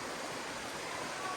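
Floodwater from rain-soaked fields rushing past, a steady broadband roar of moving water that stays even and continuous.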